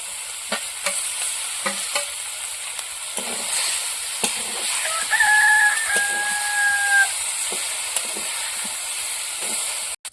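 Cauliflower florets sauté in cooked-down spice masala in a pan, with steady sizzling and frying hiss broken by repeated stirring scrapes and clinks, close and fairly loud, no talking.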